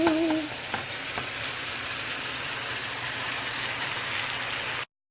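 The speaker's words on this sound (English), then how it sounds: "And then I add my seasoning to it and let it simmer for another 10 to 15 minutes" Seasoned ground beef for tacos simmering in a pan gives a steady, close sizzling hiss that runs unbroken for about five seconds before cutting off abruptly.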